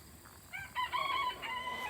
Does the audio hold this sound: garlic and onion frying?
no